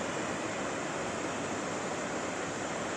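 Rushing water from a waterfall pours in a constant, dense roar that fills the scene evenly from start to finish, loud and close with no voices.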